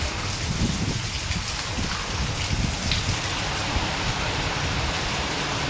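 Dense, heavy rainfall roars continuously, a loud wash of hissing noise with no pauses.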